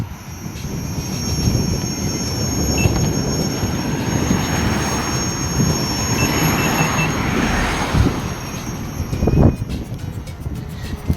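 Riding a Kingsong 16C electric unicycle with its lights on outdoors, a loud steady broadband rush of wind and motor whine with a faint high tone running throughout, no talking.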